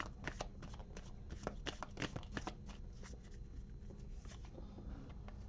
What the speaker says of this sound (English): I'm just going to do a bit of a shuffle, and then we'll pull one for you